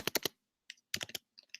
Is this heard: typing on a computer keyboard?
yes